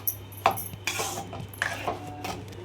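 A metal spoon clinks and scrapes in a pot as tamarind water is stirred into an oil-rich eggplant curry, several light clatters over a steady low hum.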